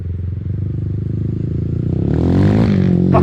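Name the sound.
Honda 450R big bore motorcycle engine while riding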